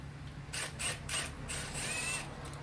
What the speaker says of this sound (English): trusty impact right here with the 3/8 adapter on it